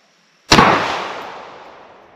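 A single sharp shot from an AR-47 rifle firing Wolf 124 grain ammunition at an outdoor range, a loud crack followed by a long decaying echo.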